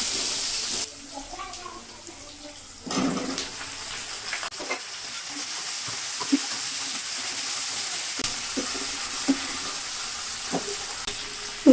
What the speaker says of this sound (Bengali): মাছ ভাজার এই তেলে দিয়ে পেঁয়াজ কুচি দিয়ে দিব। পেঁয়াজটা হালকা করে ভেজে